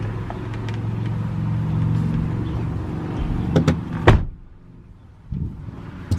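A vehicle idles with a low rumble, then a door slides and slams shut with a sharp thud, followed by quieter handling sounds.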